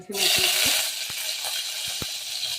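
Green chillies dropped into hot oil with mustard seeds in a pan, bursting into a loud sizzle that settles into steady frying hiss, with a few sharp pops and utensil knocks throughout.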